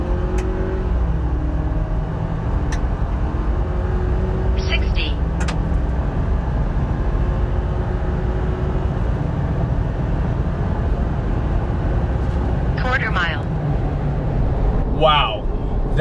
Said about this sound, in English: we're gonna see how this does getting to 60 miles an hour